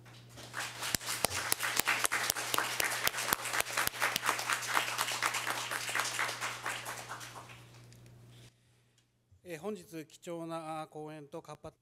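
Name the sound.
audience applause at end of seminar discussion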